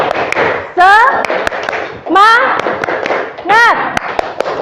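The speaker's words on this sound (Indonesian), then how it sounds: "Kita tepuk dulu, tepuk semangat, yuk." A classroom group performs a rhythmic clapping chant, sharp hand claps in quick patterned bursts mixed with loud, rising voices calling out together, close and energetic throughout.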